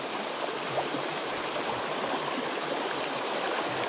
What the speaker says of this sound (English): the fast water spins around and it creates like this slow moving little pool here